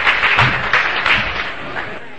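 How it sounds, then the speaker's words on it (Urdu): An audience at a 2005 Urdu poetry recital (mushaira) in Bodhan claps together in a dense, reverberant burst of applause. A voice is audible over the clapping. "میں تالیوں کی گونج میں آج کی اس شخصیت کا استقبال چاہتا ہوں، جناب شیخ احمد ضیاء صاحب."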